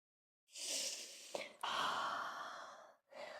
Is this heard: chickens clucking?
no